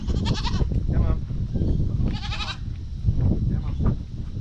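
Farm goats on a rainy property let out two loud, wavering bleats, one early and one midway, over a constant rough outdoor noise floor.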